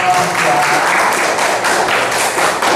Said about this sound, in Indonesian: beri tepuk tangan buat kelompok 2